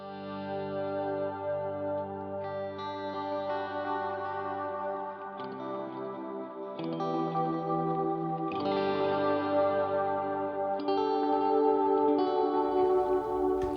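Sustained electric guitar chords through a Strymon Iridium and HX Stomp, washed in long, lush reverb at its highest decay setting that trails and overlaps, sounding dense and spacious throughout.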